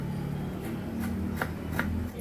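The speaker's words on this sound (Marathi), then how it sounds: "आलं पण आपल्याला असे बारीक कापून घ्यायचे" A knife finely chopping fresh ginger on a board, made while preparing a spiced Indian amla (gooseberry) chunda relish. Four or five crisp, sharp cuts land at a steady rhythm against a constant low background hum, with no talking.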